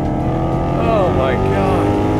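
Loud, continuous engine roar from a 2024 Maserati GranTurismo, a rich droning note with rising and falling revs throughout, heard close up.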